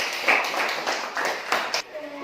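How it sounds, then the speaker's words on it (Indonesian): Students in a seventh-grade religious education classroom give a brief round of clapping, a quick cluster of claps lasting about two seconds before stopping. "Bagus, tepuk tangan."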